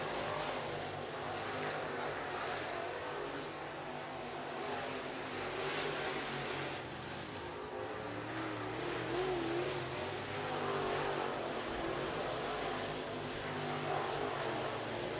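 Race cars lapping Southern Raceway during hot laps, engines roaring continuously with steady loud revving and passing cars throughout, no voices.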